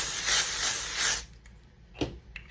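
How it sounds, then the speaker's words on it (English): Dry shampoo sprayed from an aerosol can onto hair, a steady close hiss lasting just over a second before cutting off, followed by a couple of faint handling sounds. "I'm gonna do one last spray of the dry shampoo"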